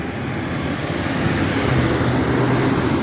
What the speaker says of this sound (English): Since they want to come through with these loud trucks